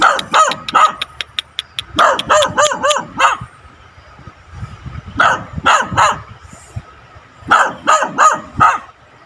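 A dog barks in quick repeated bursts, loud and close, with short pauses between volleys and no talking; a mother dog near her puppies.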